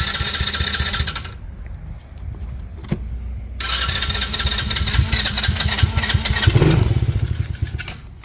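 An old engine that has sat for 17,379 hours cranks and catches, a loud rough rattling run that cuts out briefly, then restarts and revs unevenly.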